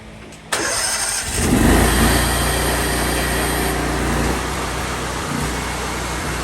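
Small engine being cranked during basic maintenance and troubleshooting, catching and settling into a loud, steady running drone after a brief starting burst, heard alone and close.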